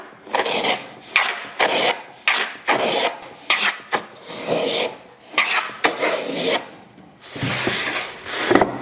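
A hand plane trimming a wooden case miter on a shooting board, producing close, loud rasping strokes in a steady rhythm of about one per second, each a short scraping swoosh.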